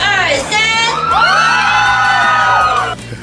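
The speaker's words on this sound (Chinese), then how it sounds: "我们让小龙老师来感受一下来自桃园热情的尖叫声" A large, enthusiastic crowd in Taoyuan screams and cheers in a sustained, loud burst of high-pitched yells and whoops that fades near the end.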